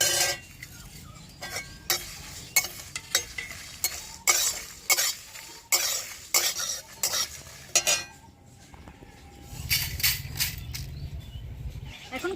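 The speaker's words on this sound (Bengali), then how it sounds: "এগুলোকে আমি শুকনো কড়াই দিয়ে আরও দু মিনিট মতো ভেজে নেবো" Bay leaf, fennel, cumin and coriander seeds dry-roast in a dry kadai, stirred by a utensil that scrapes repeatedly against the pan. The scrapes are close and come in a steady, uneven rhythm, and a low rattling hiss from the seeds rises near the end.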